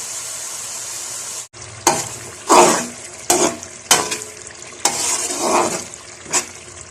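Peas fry in a hot pan for matar pulao. A steady sizzle runs underneath while a spoon stirs and scrapes the pan in several separate strokes.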